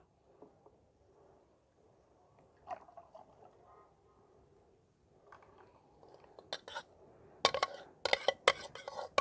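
Homemade tomato paste goes into a kadhai on a stove while ketchup is being made: soft, quiet plops and scraping at first, then sharper metal spoon clinks and clatters against the pan toward the end.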